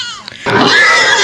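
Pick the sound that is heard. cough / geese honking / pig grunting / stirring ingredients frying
pig grunting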